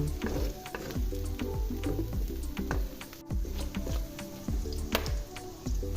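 Porcini mushrooms sizzle and pop in hot oil, a constant close crackle with scattered spits and occasional clinks, no one speaking.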